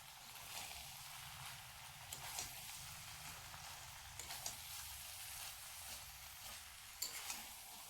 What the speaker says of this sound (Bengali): এবারে এই নারকেলটা সবজির সঙ্গে বেশ ভালোভাবে মিশিয়ে নেব